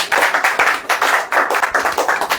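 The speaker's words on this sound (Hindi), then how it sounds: "ताली नहीं बजाएंगे।" A church congregation at a Hindi sermon claps in rhythm, loud, crisp, steady hand claps repeating in quick pulses throughout.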